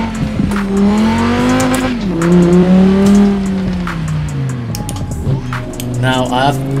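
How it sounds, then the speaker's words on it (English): V10 car engine in Forza Horizon 4 revving hard through rising and falling pitch sweeps, loud and continuous with brief tire squeal, someone talking over it. "Yeah, that does sound like a V10 now."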